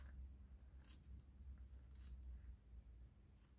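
Scissors trim coloured paper for a small handmade gift box, heard as a few quiet, sharp snips spread over a soft, low background.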